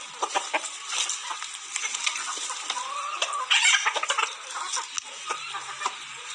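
Aseel and desi chickens clucking in a farm coop setup, a steady stream of soft, overlapping clucks and scratchy rustles at moderate distance with no talking.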